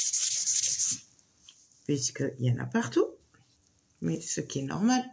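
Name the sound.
wiping off excess glue in a scrapbook album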